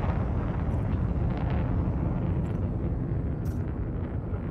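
Space fighter launching in a Thargoid-fighting space combat game, a dense continuous roaring rumble of engine thrust that stays steady and loud throughout, with no talk.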